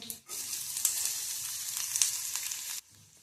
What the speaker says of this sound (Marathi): कांदा दोन मिनिटासाठी परतून घ्यायचा